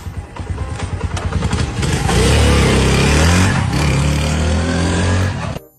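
A scooter engine sputters to life with rapid uneven pulses, then settles into a loud, steady running drone up close before cutting off abruptly.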